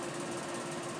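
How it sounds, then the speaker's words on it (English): Central air conditioning running in a flat downstairs gives a steady, dense whooshing hum with no breaks, fairly faint but constant throughout. "there is nothing I can do about the people who live beneath me who have their central air running."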